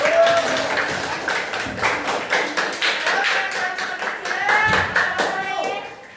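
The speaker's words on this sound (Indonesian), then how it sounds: "tepuk tangan untuk kelompok" Children in an elementary classroom clap in a quick rhythmic pattern for a student group, sharp and close, with a few voices mixed in.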